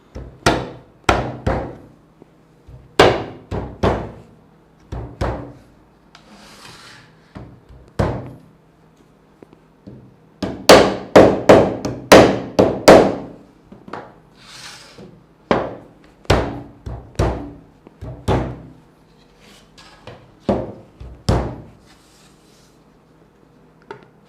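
Compact Rivertools router table parts are forced together by hand, giving a series of sharp wooden knocks and thunks, some single and some in quick bursts, loud and close with short gaps between.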